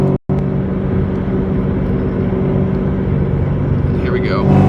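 A 2003 Ford Mustang SVT pulls in fourth gear from around 3,000 RPM, a steady deep engine drone heard from inside the car with a brief dropout near the start and someone talking over it.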